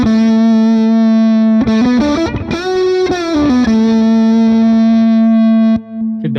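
An electric guitar plays through a Mesa Boogie amp model in AmpliTube 5, set for heavy distortion. Sustained, buzzy distorted notes ring out alone, with a quick run of changing pitches in the middle before settling back on a held tone.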